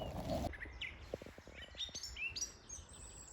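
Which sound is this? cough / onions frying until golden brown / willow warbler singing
willow warbler singing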